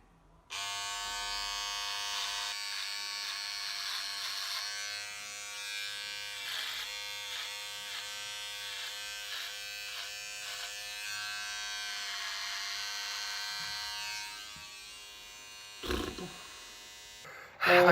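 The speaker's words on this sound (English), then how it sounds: "it is literally just the sound of you shaving" An electric shaver buzzes steadily and close up as it shaves off a moustache, a sustained droning hum with brief dips as the head moves across the face, ending in a couple of sharp knocks.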